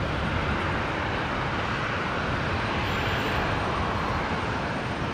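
Steady broadband jet roar from a Virgin Boeing 737 with split scimitar winglets on the airfield at Brisbane airport, a continuous loud wash of engine noise that holds evenly throughout with no talk.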